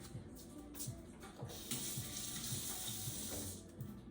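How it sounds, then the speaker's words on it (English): Hands washed under a running kitchen tap, a continuous close splash of water with faint rhythmic music in the background, no talk. "Wash my hands a little bit."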